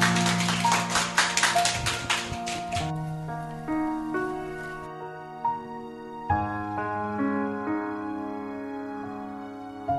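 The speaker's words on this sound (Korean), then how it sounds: "그래서 그거를 마음을 한번 박수로 표현해 볼까요?" An audience at a live public radio broadcast gives brief, fairly faint, rhythmic applause lasting about three seconds, followed by soft music with no clapping.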